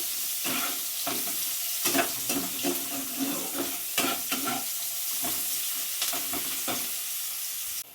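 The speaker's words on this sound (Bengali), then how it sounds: "পেঁয়াজটা ভাজা হয়ে গেছে" Chopped onions frying in oil with bay leaf, a low continuous sizzle with repeated stirring scrapes and clacks of a utensil against the pan, fairly quiet and close.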